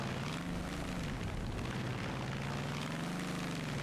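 Detroit Diesel V12 engine in BeamNG.Drive, a simulated monster truck motor droning loud and steady, its deep tone rising and dipping slightly as it revs, with no talk over it.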